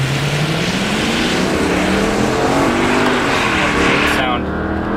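A Mercedes-Benz CLK500 with a V8 engine accelerates at full throttle, a loud continuous engine roar rising steadily in pitch through the gears, with a brief drop near the end.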